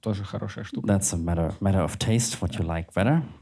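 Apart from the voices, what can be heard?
No distinct noise like a dog, phone or traffic.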